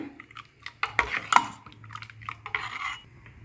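A spoon scrapes and clinks against a pot as a mixture is stirred, irregular close knocks and scrapes in quick bursts.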